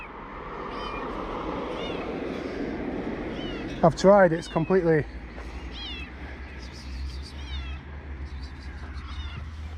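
A cat stuck somewhere in an abandoned Soviet spa town in Georgia meows loudly several times in a quick series near the middle, with people talking over a low background rumble before and after.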